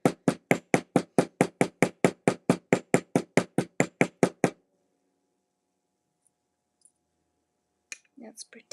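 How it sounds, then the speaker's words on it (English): Fast, evenly spaced hammer taps on a rivet in jewelry filigree, around fifteen crisp close strikes, then silence and a brief voice near the end. "as you're going to hammer this rivet down so it spreads"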